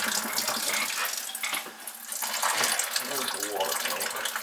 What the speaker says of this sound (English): Drain some water out of the water tank